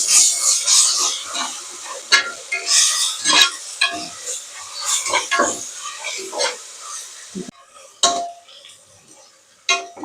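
A spoon stirs prawn and drumstick curry in a hot pan, with repeated scraping strokes and a steady sizzle and hiss from frying, close and fairly loud, with brief pauses between bursts of mixing.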